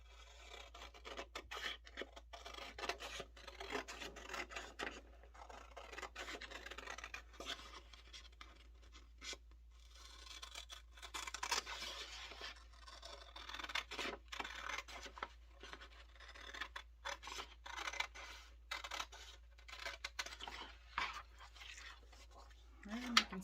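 Paper being cut for a Dollar Tree Christmas shadow box, a continuous soft rasping and scratching of blades through paper, close and quiet, with a low steady hum beneath.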